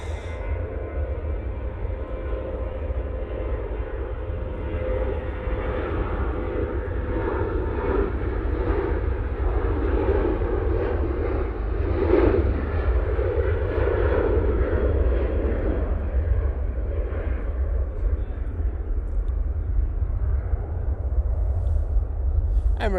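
Jet airliner E73 on its takeoff roll at Manchester Airport, a loud sustained engine roar with a heavy low rumble that holds steady and swells slightly midway before easing.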